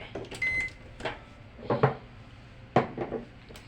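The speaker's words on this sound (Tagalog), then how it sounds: "ilalagay natin siya sa microwave" Kitchen clatter of a cup of ginger and calamansi drink being set into a microwave to boil, the door handled, with a short beep and a couple of sharp clunks, near and moderately loud.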